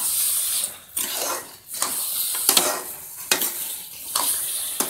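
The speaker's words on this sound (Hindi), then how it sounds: "मिक्स करती जा रही हूँ चीनी आपस में।" A spoon scrapes and stirs sugar through carrot halwa in a pan, with repeated scraping strokes, soft sizzling and occasional clinks of metal against the pan, close and without talk.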